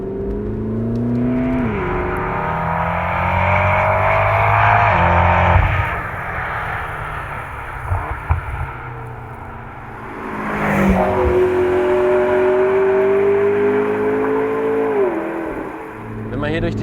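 McLaren MP4-12C Spyder V8 engine revving and pulling through gears while cruising city streets, a loud, steady, rising and falling drone with someone talking over it.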